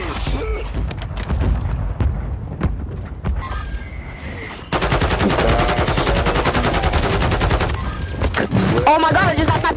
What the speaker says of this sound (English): Oh my god, I just got sniped again!